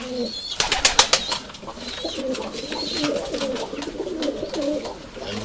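Urfa Arab pigeons packed fifteen to a box coo and murmur close by, with a burst of wing flapping and rustling early on, then steady soft cooing throughout.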